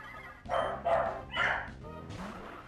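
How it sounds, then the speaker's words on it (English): A dog barks close by, three or four short barks in quick succession with some yipping, alone with no talk. "What type of bark was that?"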